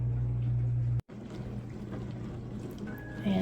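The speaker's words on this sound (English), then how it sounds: "excuse my dishwasher noise" Household dishwasher running in a kitchen, a steady low hum and churning wash noise throughout, with one brief dropout near the start and a slight rise at the end.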